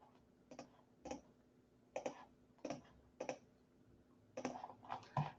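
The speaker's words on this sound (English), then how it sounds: "And then I click OK." Several separate mouse clicks, sharp and close with irregular gaps, as someone works through settings while editing a website.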